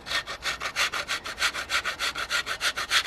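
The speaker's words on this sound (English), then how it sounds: "grate that all over" Stick palm sugar being grated for Thai rice pudding, a brisk run of regular rasping strokes close up, steady and rhythmic with no voices.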